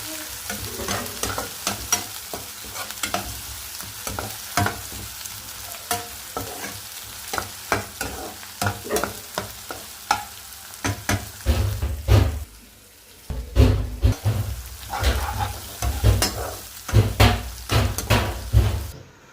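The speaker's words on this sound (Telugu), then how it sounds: "అల్లం వెల్లుల్లి పేస్ట్ కూడా వేసుకొని బాగా పచ్చివాసన పోయేంత వరకు ఫ్రై చేసుకుందాం" Ginger garlic paste fries and sizzles in a hot pan while a spoon stirs it in repeated close scraping strokes, a steady sizzle running underneath throughout and no talking.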